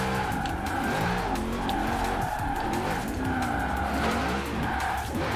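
A car drifting in the racing game Forza Horizon 4, with continuous loud tire squeal and skidding over a steady engine drone throughout, no talk.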